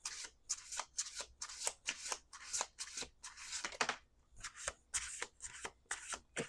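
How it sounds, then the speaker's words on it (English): A deck of tarot cards is riffled and shuffled up close, a string of crisp, rapid flutters in quick repeated bursts with short pauses between them. "Two more shuffles."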